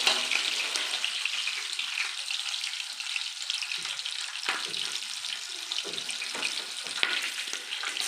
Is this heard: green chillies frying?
yes